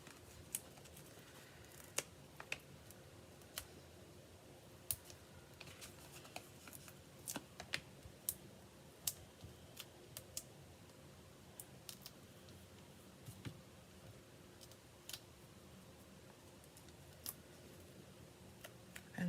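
Scissors tossed and handled on a crafting table during a scrapbooking and card-making session, heard as scattered light clicks and taps over a steady low background hum.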